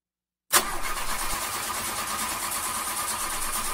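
A rented van standing in for a delivery truck in a cartoon starts up after silence: a sudden loud ignition burst that settles into a steady, close, rumbling idle.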